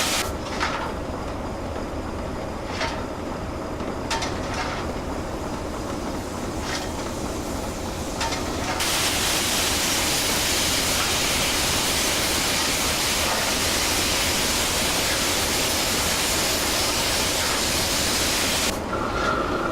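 Simulated J94 steam locomotive hauling empty wagons in Train Simulator, a steady rushing, hissing roar with faint rhythmic chuffs early on that swells louder and broader midway and holds there without speech.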